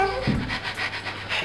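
A dog pants rapidly and steadily at close range, with rhythmic breathy puffs and a brief low whimper near the start.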